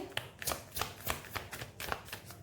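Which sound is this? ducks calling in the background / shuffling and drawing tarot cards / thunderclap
shuffling and drawing tarot cards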